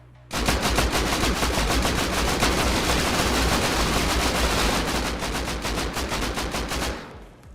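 Sustained automatic gunfire with incendiary rounds in the video game Rust, a loud rapid continuous burst lasting several seconds before cutting off abruptly.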